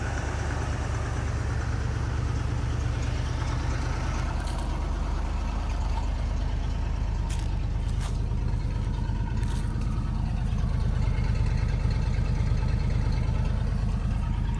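A 1974 Ford F100 pickup engine idles steadily with a low, rumbling throb that stays even throughout, close by and fairly loud, with no talking.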